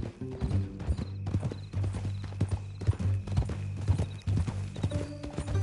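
Horse hooves clip-clopping in a steady, close walking rhythm in Red Dead Redemption 2, with a faint whinny and a low musical drone underneath.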